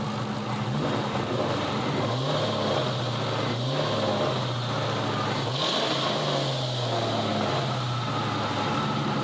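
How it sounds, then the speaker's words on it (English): A 2000 Ford Mustang GT V8 runs steadily at idle with a deep rumble, its pitch rising and falling in a few gentle revs, heard close with no one speaking. "motor sounds pretty good though"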